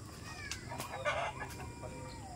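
Chickens cluck repeatedly around a rural Philippine home, short broken calls with one louder squawk midway, over a steady low background hum; no one speaks.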